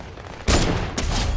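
Gunfire in the video game Fortnite: a loud burst of shots erupts partway through, with a second volley following close behind, dense and sustained over a steady game backdrop.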